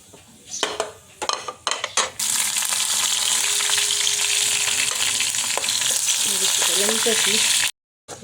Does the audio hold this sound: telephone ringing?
no